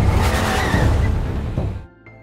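A getaway car in a movie chase scene, loud and close with tires and engine roaring as it pulls off, then dropping away abruptly to near silence.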